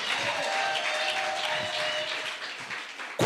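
A church congregation applauds during a sermon, with steady, dense clapping that holds at an even level for about three seconds before ending abruptly.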